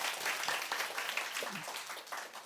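Audience at a talk applauding two participants, a continuous, moderately loud patter of many hands clapping with a faint voice briefly underneath.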